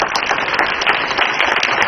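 Applause from a school audience for student performances, a dense, steady wash of many hands clapping across the whole stretch, fairly loud and with no voices over it.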